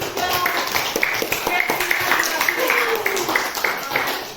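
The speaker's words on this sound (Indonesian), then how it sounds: "Tepuk tangan untuk kalian semua" A classroom of students claps in a scattered, uneven patter that runs the whole time, with voices talking and chattering over it.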